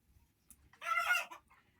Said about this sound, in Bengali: এগুলা কিন্তু আমার খুব শখের মুরগি